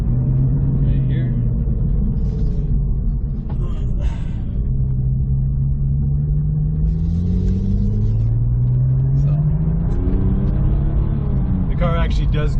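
A 2003 Porsche 911 Turbo drives along with a loud, close engine drone that climbs in pitch through several gear pulls, settling back between them, with a brief burst of outside noise near the end.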